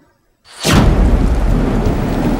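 Thunderstorm sound effect: after a brief silence, a sudden loud crack of thunder breaks into a sustained rumbling roar mixed with heavy rain, continuing loudly to the end.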